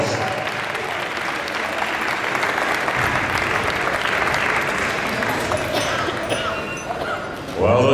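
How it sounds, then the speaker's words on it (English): Large audience at a world powerlifting championship in Sweden applauds the class winner, steady loud clapping and cheering throughout, with a few yips and barks mixed into the crowd noise and a brief burst near the end. "Give him a massive round of applause!"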